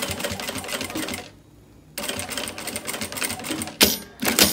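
A sewing machine stitches a pencil case at a shortened stitch length, running in fast, loud, continuous bursts close by, stopping briefly, then starting again.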